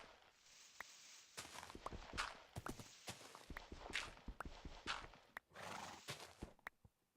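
A horse in Minecraft whinnies and neighs while its hooves clip-clop in uneven bursts, the sounds fairly close but quiet overall, with no one speaking.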